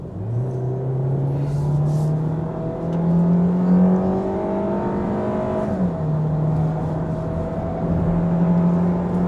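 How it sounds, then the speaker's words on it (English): A Kia Sportage engine revs loudly and steadily while the SUV accelerates, its droning pitch climbing gradually with a brief dip before rising again, with no talking. "you can certainly hear the engine screaming. It picks up speed."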